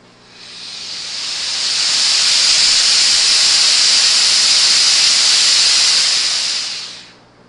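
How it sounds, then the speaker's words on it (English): Compressed air blasts from an open quarter-inch pipe as one loud, continuous hiss. It swells up over the first second, holds steady and very loud, then cuts off near the end. "I'm going to turn the air on this quarter-inch pipe"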